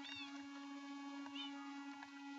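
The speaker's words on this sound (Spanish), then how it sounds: "Son bonitos los gatos." Cats meowing in a video game, a few short high mews scattered over a steady electronic game hum, with no talk.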